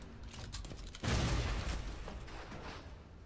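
Explosions and rumbling blasts in the video game Shadow Complex, a sudden loud burst about a second in that decays into sustained crackling noise and debris, with no talk over it.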